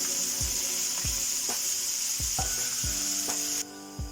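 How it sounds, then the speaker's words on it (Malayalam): Green chili and onion with curry leaves sizzle in a pan while being stirred, a steady loud frying hiss punctuated by about eight sharp spatula knocks at a slow even pace; the hiss cuts off abruptly near the end. "നന്നായി ഒന്ന് ഇളക്കി കൊടുക്കാം"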